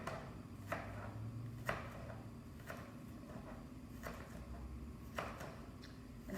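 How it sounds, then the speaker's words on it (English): A knife finely chopping an onion on a cutting board, a steady series of faint taps and thuds at irregular short intervals in a quiet kitchen. "I'm gonna finish finely chopping this onion."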